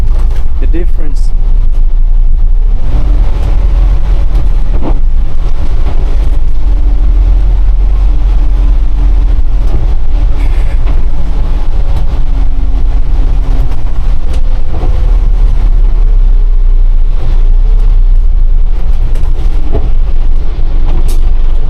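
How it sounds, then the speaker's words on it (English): An Alexander Dennis Enviro 200 single-decker bus drives on a cloudy evening, heard from the driver's seat as a loud, steady low engine rumble with faint gliding whine tones and occasional knocks. "The bus I'm driving is Alexander Dennis Enviro 200 single decker."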